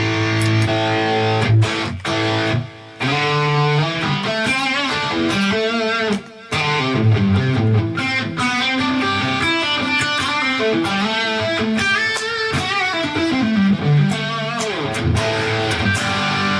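Electric guitar played through a Line 6 Pod Express with delay and reverb, ringing distorted notes and chords trailing into echoing tails, loud and continuous with brief gaps.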